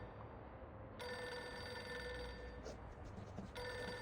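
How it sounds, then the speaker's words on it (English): A telephone rings inside the video game Reverse: 1999. It starts abruptly about a second in as a steady, bright electronic ring that persists over a low background drone, with brief breaks and a renewed burst near the end. "Pick up the phone already!"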